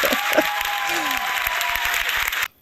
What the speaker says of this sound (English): I'm waiting for the applause to die down.